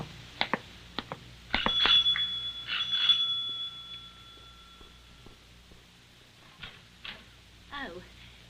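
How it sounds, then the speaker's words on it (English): A front doorbell rings sharply several times, with a sustained ringing tone in the middle, followed by quieter clicks and shuffling. "the front doorbell rang"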